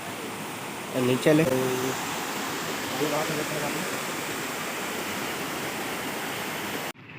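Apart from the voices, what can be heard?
Damau Dhara waterfall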